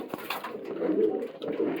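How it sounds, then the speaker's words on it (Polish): A pigeon coos steadily in low, soft, rolling notes, fairly close and continuing throughout without pause. "I dopiero teraz zaczął gruchać."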